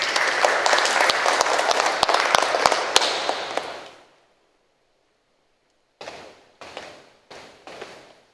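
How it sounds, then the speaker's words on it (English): Audience applause at an MOU signing ceremony between Ama Medical and the Echitab Study Group, a dense burst of clapping fading out after about four seconds, then a few short scattered bursts resume after silence. "Please give them a round of applause."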